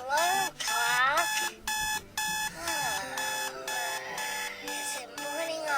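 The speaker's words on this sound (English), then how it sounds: "It's your turn to get up to turn off the alarm clock." An animated cartoon alarm clock rings loudly and continuously in a Christmas show, a harsh trilling bell that pulses in rapid repeated bursts with barely any gaps.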